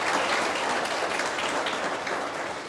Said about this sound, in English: Let's give Thebe a warm round of an applause for that.